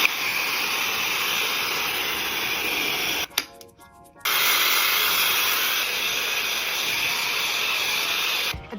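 A Dyson Supersonic hair dryer blows steadily with a close, loud airy whine, cuts out briefly for about a second, then runs again and stops right at the end.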